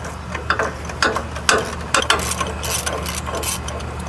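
A hand ratchet loosens the 14mm bolt holding the park brake cable to the rear knuckle of a Nissan Xterra. Crisp, evenly spaced clicking bursts repeat about twice a second, close and loud, with no talking.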